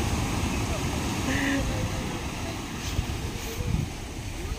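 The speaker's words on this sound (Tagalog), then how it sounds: "Ang lalaki ng alon. Ang laki ng hampas." Big waves crash and churn on a rocky beach at Mabato, a loud, continuous roar with wind rumbling against the microphone and a few surges building toward the end.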